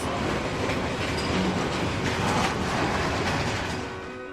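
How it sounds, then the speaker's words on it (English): A loud train rumbles steadily throughout, a dense, continuous roar of wheels and carriages with faint clickety-clack, easing slightly at the very end, no voices. "the loud sound of the train is meant to disorient the audience"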